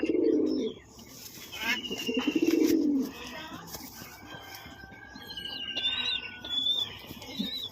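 Soft pigeon coos from a pair of domestic pigeons kept at home, a few low cooing bursts close by with other faint bird chirps in the background and occasional quiet voices.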